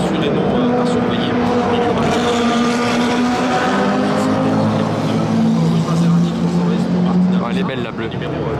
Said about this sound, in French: Il va vite avec cette Maserati 300S numéro 38 qui sera assurément à surveiller